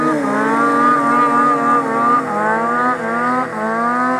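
A 1000 cc engine in a pulling vehicle revs hard with all cylinders firing, a loud, close, continuous roar that rises and wavers in pitch with small surges, heard alone without talk.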